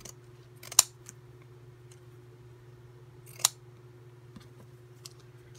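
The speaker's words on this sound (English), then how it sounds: "And then we'll cut some smaller ones." Scissors snip through upholstery fabric samples in two distinct crisp cuts a few seconds apart, close and fairly faint over a low steady room hum, with a lighter click near the end.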